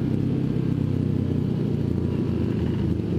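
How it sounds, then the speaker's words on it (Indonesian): A 2018 Kawasaki Ninja 250 FI, a 250 cc motorcycle, drones steadily and close while being ridden at speed, with a dense, unbroken engine rumble and no talk. "Ini motor Ninja 250 FE 2018."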